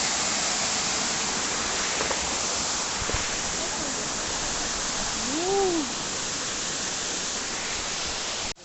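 A waterfall on a hiking trail to Cachoeira da Provisão roars as a steady, broad rush of falling water close by, with a brief faint voice rising over it.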